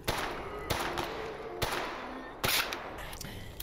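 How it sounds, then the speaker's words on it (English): Enemy gunfire in the EFP 4.0 video game comes as about five sharp, separate shots spaced irregularly, moderately loud and somewhat distant, with no talking over them. "That is somebody shooting at me."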